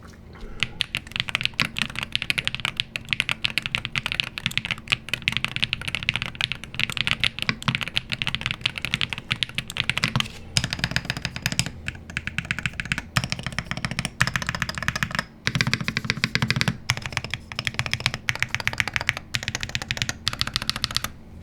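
Steady, rapid typing on a Pwnage Zenblade 65 8K Hall Effect gaming keyboard, close-up with crisp, dense keystrokes in continuous bursts and only tiny pauses throughout, no talking.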